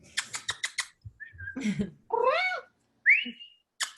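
A cat gives a few short meows and chirps, close by, between bursts of rapid keyboard typing in an otherwise quiet room.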